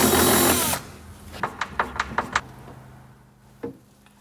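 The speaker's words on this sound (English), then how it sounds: "And then screw this in place, as this will support the side carriage as you put the rest in." Power drill driving screws to fix wirework in a Duetto corner unit, a sharp burst of whirring, then a run of six quick clicking taps and a final knock, close and clear.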